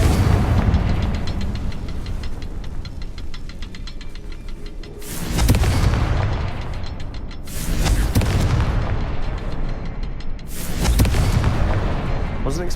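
A Confringo fire spell detonates in a Hogwarts video game, landing as several heavy booming blasts spread through the clip over a constant rumbling game backdrop, with a voice talking in places.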